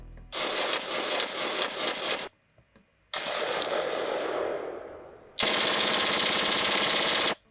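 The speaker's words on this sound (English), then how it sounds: "find some gunshot sounds." Gunshot sound effects previewed one after another: a rapid machine-gun rattle, a pause, a longer burst with fading echo, then a dense, bright, continuous volley, all loud and close.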